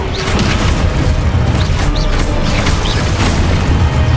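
Spell blasts in Hogwarts Legacy: a loud, continuous run of booming magical impacts and crashing bursts that follow one another without pause.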